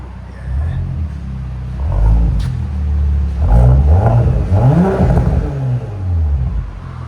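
A 2019 Audi S7 with a 2.9L twin-turbo V6 and straight pipes revs in several rising, falling blips over a steady idle, loud and close, with brief voices underneath.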